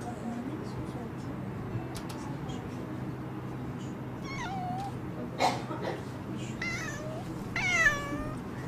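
Several cats meow in a cat café full of about twenty cats, with faint plaintive calls at first and then a few louder drawn-out meows near the end, set against steady room murmur and people talking softly.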